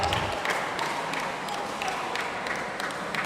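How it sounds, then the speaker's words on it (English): A crowd at a mixed doubles tournament match in Bali applauds with dense clapping that holds steady for a few seconds. "Round of applause all around."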